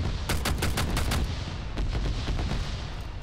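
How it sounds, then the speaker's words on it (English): Video game gunfire rattles in quick bursts of rapid shots, then a looser scatter of further rounds over a constant dense rumble of battle noise, moderately loud with no voices. "Some more shots going in."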